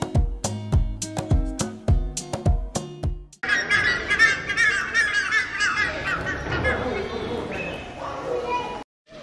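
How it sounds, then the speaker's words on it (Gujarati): A dense chorus of bird calls and chirps fills a jungle safari enclosure, loud and continuous, after a few seconds of stepped musical tones at the start. "તમે જો આખો અવાજ તમે સાંભળશો તો અલગ અલગ પક્ષીઓનો અવાજ તમને સાંભળવા મળશે"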